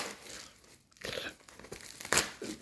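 A large packaging envelope is handled up close, giving a few quick bursts of crinkling and rustling. One sharper crackle sounds near the end.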